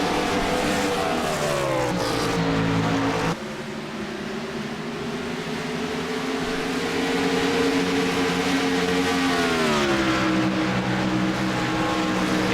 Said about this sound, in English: You can hear him feathering that gas ever so slightly.